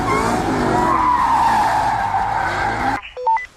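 A 2014 Dodge Charger R/T drifts sideways through a snowy curve, its tires giving a loud, sustained skid and squeal for about three seconds before cutting off, followed by a few short electronic beeps.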